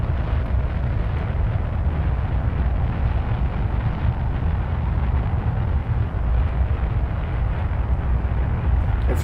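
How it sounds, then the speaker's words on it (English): Kerbal Space Program rocket explosions, a dense and continuous rumbling roar, loud and unbroken from start to finish, with deep booming weight beneath a hissy wash. "We have to have our explosions."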